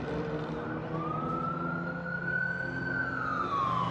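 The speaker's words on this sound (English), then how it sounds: "No, it's an ambulance." An ambulance siren wails faintly in the distance in Las Vegas, its rising tone drifting over steady low traffic rumble and engine noise.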